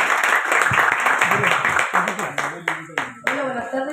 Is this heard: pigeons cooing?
no